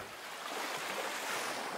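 Sea waves wash continuously onto a beach, a soft, steady broadband surf with gentle swells, moderately distant and faint, with no voices.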